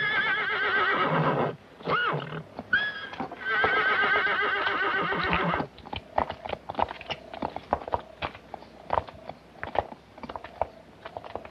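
In a Western film scene, a horse lets out a long, loud whinny with a few snorts, then hooves clop in an uneven rhythm on hard ground.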